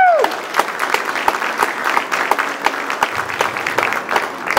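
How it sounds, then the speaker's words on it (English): A room of people applauds Cindy at an arts walk induction ceremony, steady close clapping with a cheer at the start, continuous and fairly loud. "I want to give a round of applause for Cindy at this point"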